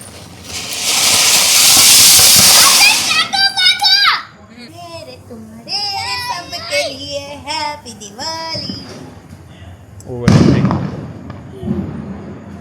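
A loud, hissing Diwali firecracker sprays for a few seconds, then children chatter excitedly before a sharp burst goes off near the end.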